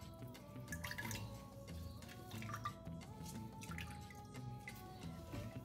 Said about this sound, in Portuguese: Nosso liquidificador, vou transferir para cá a nossa água, mais ou menos 700 ml.